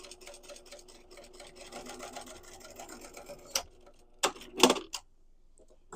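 A sewing machine stitches a seam on a quilted tote bag with flex foam, giving a fast, even mechanical patter at close range for about three and a half seconds. A few sharp clicks and knocks follow, then near silence.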